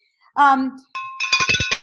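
A small hand bell rings in a quick run of bright dings, following a voice that imitates the ringing beforehand.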